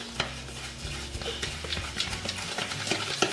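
A fork stirs and scrapes through cookie dough in a bowl, making soft, irregular clinks and thick mixing sounds, close up and fairly quiet.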